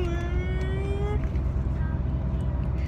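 A human voice imitates a Ferrari engine starting up, a short tonal rev that slides and fades against a steady background rumble.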